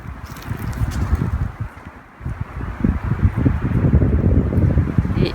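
Steady wind gusts through an olive grove, rustling the leaves in rising and falling waves. It is continuous and fairly close, with broad low rumble from wind on the microphone and one brief lull partway through.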